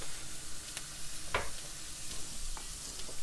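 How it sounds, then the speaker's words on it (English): Garlic stir frying in hot oil on a stovetop, a steady soft sizzle with brief stirring scrapes and clicks, close and alone without talk. "I'm going to add some oil here. We're going to stir fry our garlic real quick."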